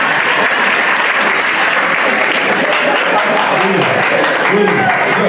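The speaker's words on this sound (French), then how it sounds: "Vous pouvez applaudir pour moi?" Church congregation applauding during a French-language sermon, a dense, steady wash of clapping that fills the whole stretch at close, loud level.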